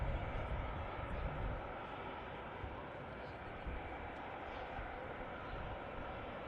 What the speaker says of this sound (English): Emirates A380 taxiing in as we have an arrival from Amsterdam